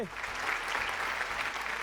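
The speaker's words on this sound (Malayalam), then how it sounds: "ഒരു നല്ല കൈയടി തന്നേ" A television studio audience claps steadily and fairly loudly for about two seconds, a dense unbroken patter of hands with a faint voice underneath.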